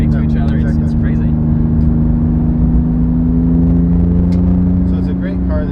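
Porsche 911 GT2 RS engine droning steadily from inside the moving car, a loud sustained low hum with people talking over it.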